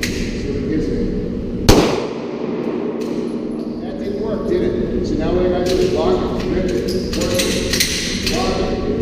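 A handgun fires a sharp, loud shot close by, followed by metallic clicks and handling noises, as in clearing a stoppage, over steady background noise.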